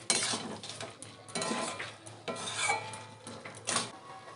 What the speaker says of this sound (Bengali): ধনে পাতা কুচি, ভালো করে মিক্স করে নেব আর একটু রস মেরে নেব।